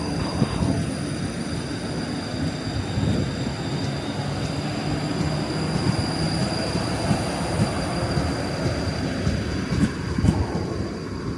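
A ScotRail train runs through Barnhill Station in Glasgow, a steady, loud rumble of wheels and carriages with faint squealing and clatter that holds for about eleven seconds with no speech.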